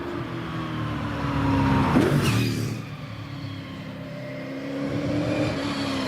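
A Rover V8-engined race car roars past close by during British Championship practice at Prescott, swelling to a peak and then fading, leaving a lower rumble that builds again.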